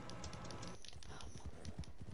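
Rapid, light clip-clop of horse hooves at a quick pace, a dense run of small knocks close by, with wind noise in the background.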